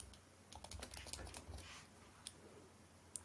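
Computer keyboard typing with a scattered run of light clicks in the first half, then a few isolated key taps, quiet and close.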